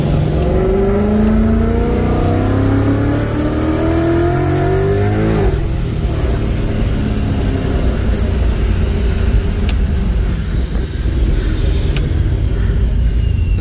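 A 1,100 whp 2JZ Lexus IS300 and a 1,000 whp Gen 2 Coyote Mustang with a TH400 race side by side, engines roaring loud and continuous, pitch climbing through hard acceleration, heard close from inside a car with heavy wind noise.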